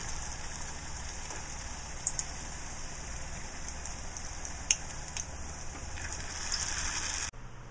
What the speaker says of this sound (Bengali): ডুবো তেলে আপনি সমুচাগুলি পরবর্তীতে ছেড়ে দিবেন।